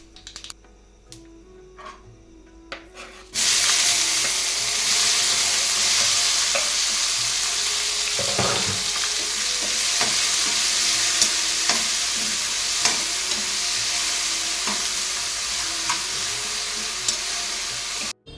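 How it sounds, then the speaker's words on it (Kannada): Tomatoes go into a hot pan after mustard seeds for Mangalore cucumber sambar, setting off a loud, steady sizzle that starts suddenly and holds without a break, with occasional stirring scrapes and small pops over it. "ಇವಾಗ ಟೊಮೊಟೊ ಹಾಕ್ಕೊಳ್ತಿದ್ದೀನಿ."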